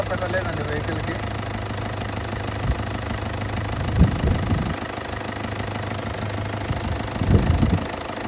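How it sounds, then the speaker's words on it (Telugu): A 2017 Toyota Etios diesel engine idles smoothly with a steady low hum throughout, broken by a few louder knocks and bumps, while someone speaks over it. "ఇంజన్ చాలా స్మూత్గా ఉందండి వెహికల్."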